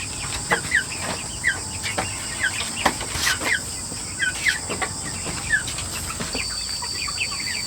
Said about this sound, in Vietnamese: Đi cùng bác Hải xuống xem gà.